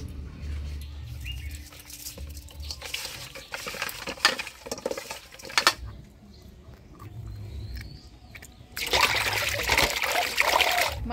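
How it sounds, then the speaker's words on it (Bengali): Cut tilapia fish is washed clean in water at home, with irregular trickling and splashing bursts, near and moderately loud. Birds chirp in the background and the sound drops away briefly between rinses. "মাছটা কাটে নিলাম, এবার পরিষ্কার করে ধুয়ে নিব"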